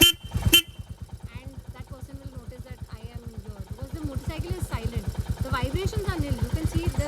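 A Royal Enfield Classic 350 motorcycle gives a short horn beep, then its engine thumps in a steady, evenly spaced idle rhythm that grows slightly louder.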